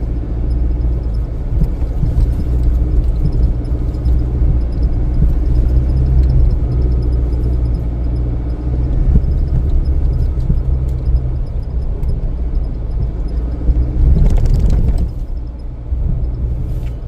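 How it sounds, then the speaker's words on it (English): A 2023 Chevy Colorado Trail Boss truck off-roading on soft beach sand, its engine a steady low rumble throughout, with a brief louder burst of noise near the end as it rocks over bumps. "And this truck is flopping around right now on some of these bumps."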